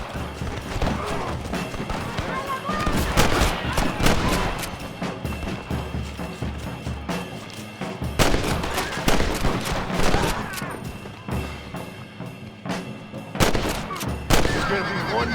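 Heavy gunfire fills a rebel camp shootout in Red Dead Redemption, dense volleys and sharp shots cracking nonstop at close range, with horses whinnying and hooves clopping through the din.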